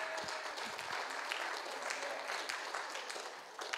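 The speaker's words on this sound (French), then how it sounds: "Acclamons pour nos mamans et les femmes d'ici" A church congregation breaks into sustained applause for mothers and women, dense clapping from many hands filling the room evenly throughout, fairly loud and without talk.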